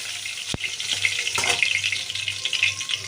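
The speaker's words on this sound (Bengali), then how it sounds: "পুরো মাছটাই এইভাবে ভেজে নিলাম" Bhola fish sizzles as it fries in hot oil in a pan, a close, busy crackle with a few sharp pops.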